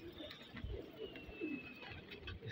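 Pigeons coo in low, throaty murmurs, several birds overlapping at a steady hum, with faint chirps and background hiss.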